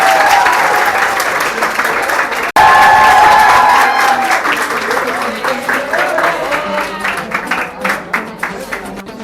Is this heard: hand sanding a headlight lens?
no